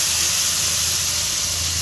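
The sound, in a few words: sizzling as masala is added to hot oil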